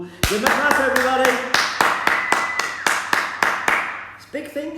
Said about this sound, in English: Give me a clap, everybody.